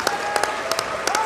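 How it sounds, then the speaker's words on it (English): Brief audience applause at a formal state event at Windsor Castle, a short wash of clapping with a few sharp individual claps standing out. "let us applaud Shelley, Omer's mother, and Omer's family for their resilient"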